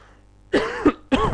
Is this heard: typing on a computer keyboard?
no